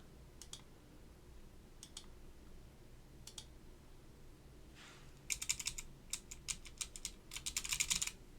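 Clicky keystrokes on a restored Northgate Omnikey 101-N keyboard with Alps SKCM White switches: a few isolated presses, then a fast, dense run of crisp clacks, near and alone.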